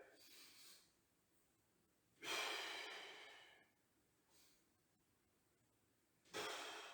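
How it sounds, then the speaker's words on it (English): Forceful exhalations during press ups, two strong breaths out about four seconds apart, close and clear, with a fainter breath between them and no talking. "As I push up, I breathe out."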